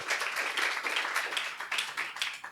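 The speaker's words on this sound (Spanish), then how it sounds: "un fuerte aplauso para Camila." Audience applause fills a hall after a speaker is introduced at a talk, a dense, steady burst of many hands clapping together, loud and close, with no voices over it.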